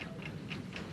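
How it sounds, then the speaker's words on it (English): A prop bomb ticks in a quiet, even rhythm, four faint clicks evenly spaced over one second, with no voices. "Can you hear it ticking?"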